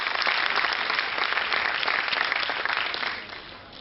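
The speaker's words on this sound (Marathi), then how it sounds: "परत एकदा जोरात टाळ्या" Loud, dense applause from a lecture audience at a Marathi education talk, a full continuous wash of many hands clapping together, easing off slightly in the last second.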